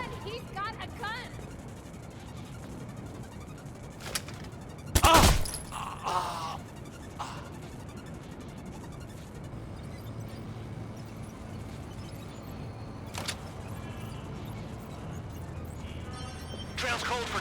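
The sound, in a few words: gunfire from the video game Watch Dogs 2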